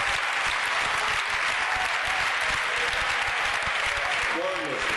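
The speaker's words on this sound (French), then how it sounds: "Donnons une acclamation au Seigneur." A church congregation claps and cheers in sustained applause, a dense steady wash of many hands filling the room, with a voice briefly audible near the end.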